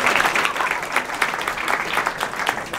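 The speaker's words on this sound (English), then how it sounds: "thanks for the clap" An audience at a women-in-business talk on working in a male-dominated industry claps steadily and fairly loudly for about three seconds: a dense, even patter of many hands with no voices over it.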